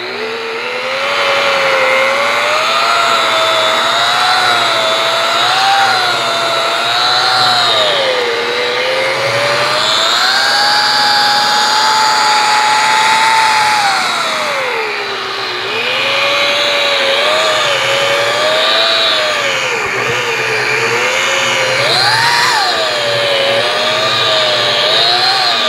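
A machine polisher buffs car paint with a pad to correct scratches and swirls, giving a loud, steady motor whine that rises and falls in pitch as pressure and speed shift, continuous throughout with no talk.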